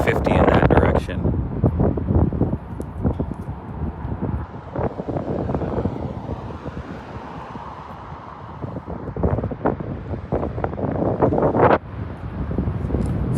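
Gusty wind buffets the microphone near a wildfire by a highway junction, a steady roar with rising gusts, while a voice talks over much of it.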